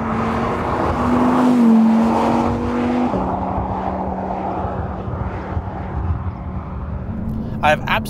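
A powerful 5.2-litre V10 engine in an Audi R8 drones at a steady pitch, revving up and dropping back a few times, then settling into a lower, rumbling idle.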